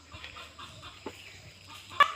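Soft, scattered clucks from native country chickens nearby, ending in a sharper squawk, with a quiet outdoor background.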